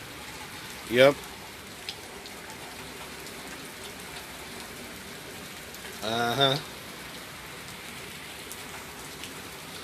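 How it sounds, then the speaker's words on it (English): Steady rain falls throughout on a cool February day, a continuous soft hiss with two short bursts of people talking over it. "It's a rainy day."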